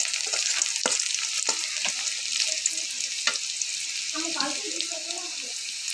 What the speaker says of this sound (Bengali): এখন আমি দিয়ে দিলাম এটা তেজপাতা, 3টে এলাচি,